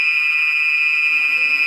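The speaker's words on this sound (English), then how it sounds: "The fire alarm is going off because somebody burned their lunch." An office fire alarm set off by burned lunch blares as a steady, piercing high electronic tone, loud and unbroken throughout.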